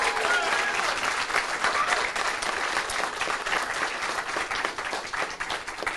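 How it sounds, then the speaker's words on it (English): Audience applause for a Brave New Workshop actor at a debate event, a dense, steady wash of many hands clapping close and loud that holds evenly throughout with no talking. "And a round of applause for our wonderful actor."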